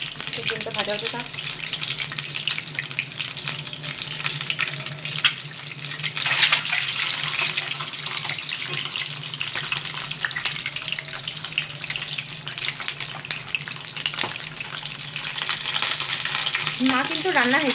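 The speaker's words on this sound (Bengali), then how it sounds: "ডিমটা ভাজা হতে থাক।" An egg sizzles in a hot pan at home, a steady crackling fry running throughout with occasional clinks and faint water-like noise in the background.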